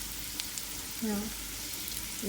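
Water spinach stir-fried with garlic in a very hot pan, a steady sizzle and crackle of frying with brief louder bursts as the greens are tossed and mixed.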